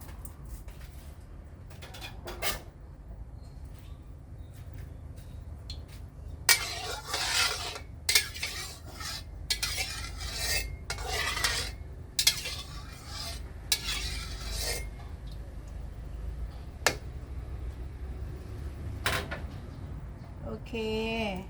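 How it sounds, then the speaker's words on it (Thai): Metal utensils scrape and clatter against a pan in bursts as curry paste is stir-fried in hot oil while someone talks over a low background hum, with a faint sizzle. "พอน้ำมันร้อนพริกแกงลงผัดกับน้ำมันเลยค่ะ"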